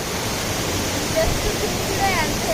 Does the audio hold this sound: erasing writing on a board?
no